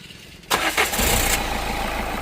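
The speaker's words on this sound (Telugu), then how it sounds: "నేను స్టార్ట్ చేసి చూపిస్తాను సౌండ్ ఎలా ఉంది ఏంటన్నది ఒకసారి గమనించండి" A 2016 Renault Duster RxL diesel car engine cranks briefly, catches and starts, then settles into a steady, even idle close by.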